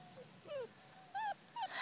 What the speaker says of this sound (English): there's Green Ribbon, who is fighting over the bone with Roscoe